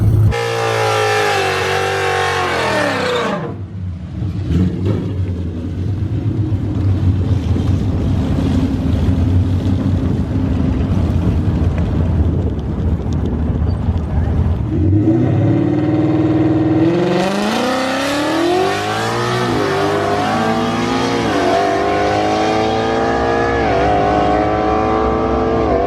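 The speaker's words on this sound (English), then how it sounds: "2015 bolt-on GTR versus the Mamba." A 2015 bolt-on Nissan GTR and the Mamba, a 5.0, drag race, engines roaring loudly and close, with a rising launch whine, a lull of rumbling, then another surge of climbing revs.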